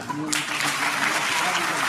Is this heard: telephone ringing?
no